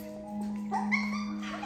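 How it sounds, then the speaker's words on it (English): Puppies whimper and yip in thin, high, wavering cries over a steady low hum, close and continuous for under two seconds. "What are those puppies doing?"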